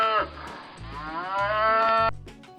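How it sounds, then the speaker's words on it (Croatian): A dairy cow gives one long, loud moo that swells and then drops away, heard close and clear on a farm with no talk over it. "Ova životinja nam daje svoje mlijeko i glasa se mukanjem."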